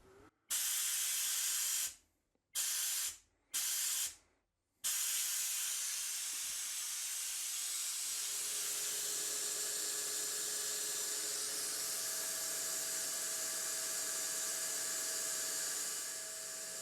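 A Venturi valve vacuum pulling a workpiece flat against the face of a chuck gives a steady, bright hiss that starts and stops in short bursts, then runs continuously and settles into a softer, even rush.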